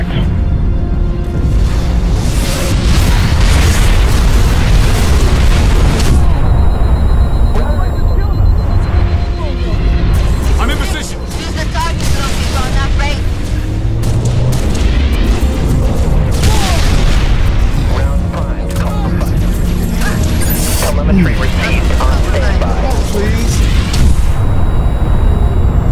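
Explosions and booming blasts from a Covenant spaceship attack in a Halo game fill the whole stretch, dense and loud, with gunfire, roaring engines and shouted radio-style voices layered over the chaotic battle.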